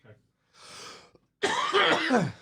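A person coughs and clears their throat nearby: a short breathy rasp, a pause, then a louder harsh cough burst.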